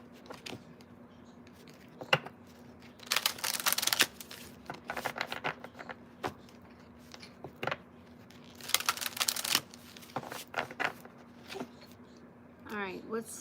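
A deck of cards being shuffled in several quick riffling bursts, close and crisp, separated by softer handling clicks and rustles, with a brief voice near the end.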